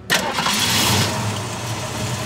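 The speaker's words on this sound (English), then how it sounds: "We start them every 2 weeks just to run them, you know, get the engines warm." A classic car engine at an automotive museum in Balboa Park, San Diego, cranks and catches, then settles into a steady, loud idle, close by with no talk.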